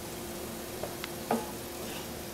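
Oil sizzles steadily and softly up close as vegetables cook, with a few faint clinks of a utensil stirring.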